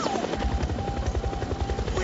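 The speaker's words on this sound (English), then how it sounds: "the helicopter kept going. It's flying around the top of the mountain." A helicopter flies over a rocky mountain top, its rotor chopping in a steady rapid thump with a constant engine whine, loud and continuous throughout.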